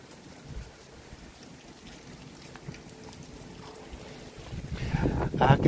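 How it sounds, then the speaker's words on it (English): Hurricane Milton winds gust around a house in Florida, a rough, rising rush of air and rain that grows louder and more buffeting toward the end. "we are in a hurricane."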